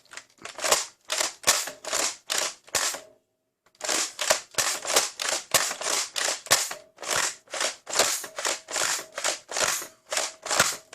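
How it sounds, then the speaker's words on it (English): An X-Shot Skins Last Stand toy blaster slam-fires in quick repeated plastic clacks, roughly two per second, with a brief pause after the first run before the rapid firing resumes, close and crisp. "Yes, this thing even has slam fire, which I didn't know of."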